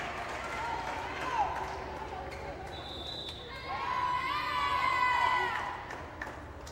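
A crowd at a college volleyball match in the Jefferson College Fieldhouse cheers and shouts, with whistles and ball bounces, and the noise swells in the second half while a commentator speaks over it.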